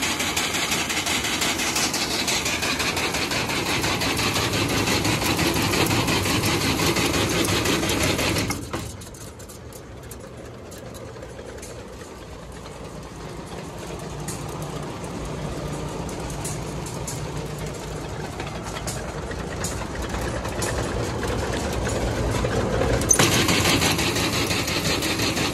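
An Allis Chalmers All Crop 60 combine runs with its freshly greased auger working, a steady close mechanical whir and rattle that drops quieter partway, then swells back to full volume near the end.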